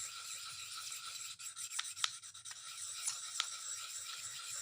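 A secateurs blade is worked over a sharpening stone in quick, fine rasping strokes. The scratching is quiet and close, with a few brighter scrape accents.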